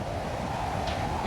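Hurricane winds roar outside a house in a dense, continuous broadband rush, steady and unbroken for a brief stretch with no voices.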